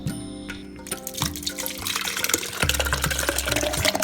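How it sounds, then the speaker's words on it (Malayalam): Cooled grape mixture being poured into a juicer splashes and trickles steadily for a few seconds, close up, with liquid sloshing and dripping sounds and no talk. "ഇനി ഒരു ജ്യൂസറിലേക്ക് ഒഴിച്ച് ഒന്ന് അടിച്ചെടുക്കാം."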